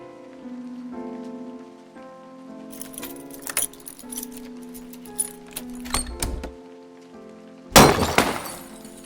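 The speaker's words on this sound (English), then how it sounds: "Damn keys won't work." Keys jangle and rattle against a locked door in the vampire story game Cabernet, a few clinking bursts over quiet background music, ending in one loud sharp crash or clatter.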